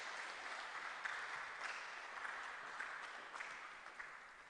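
An audience applauds after a speech by a Member of Parliament at a Christian citizenship gathering in Ghana, a steady wash of many hands clapping, fairly faint and distant, with no talk over it.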